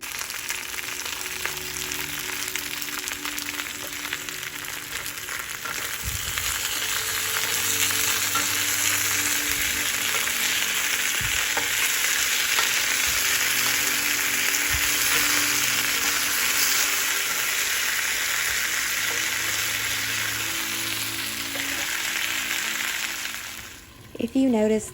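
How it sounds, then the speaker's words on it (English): Potatoes frying in oil in a skillet, a continuous loud sizzle with crackles and pops as they are stirred, scraping bumps from the spoon partway through, close and steady for the whole stretch. "Here you can see they're starting to cook, and I'm just going to give them a good stir."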